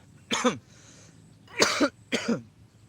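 Three harsh coughs from one person, close and fairly loud, the first alone and the last two in quick succession.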